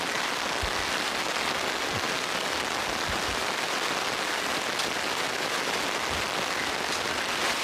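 Steady, dense rainfall hisses continuously over a kitchen garden outdoors, with occasional heavier drops thudding close by; no voices.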